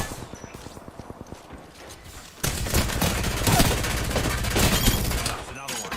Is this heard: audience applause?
no